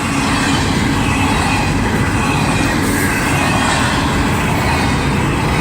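A long freight train with many cars, including empties and double-stacked cars, rolls past close by in one steady, loud, unbroken roar with a faint wheel squeal, and nobody speaks.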